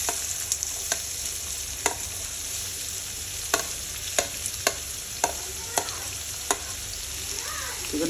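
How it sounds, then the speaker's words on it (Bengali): Chopped onions frying in a pan for spicy masala egg curry, a continuous close sizzle punctuated by sharp clicks of a utensil tapping and stirring every second or so. "তো এখন আমি এখানে পেঁয়াজ কুচিগুলো দিয়ে দেবো।"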